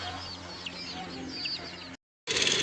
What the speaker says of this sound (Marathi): अरे ऐ कशा कोंबड्या आहेत